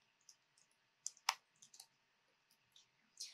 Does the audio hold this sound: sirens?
no